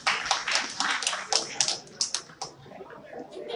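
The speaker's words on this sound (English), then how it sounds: "Applaud yourselves for being here." Audience at a public conversation event clapping for themselves, sharp individual claps standing out from a thinning, uneven round of applause that tapers toward the end.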